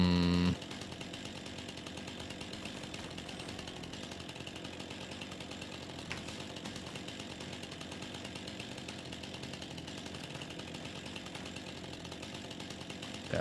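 Steady, loud chainsaw-like whine of tree trimming in the video game Farming Simulator 25, a continuous motor drone held at constant pitch for the whole stretch with no talk.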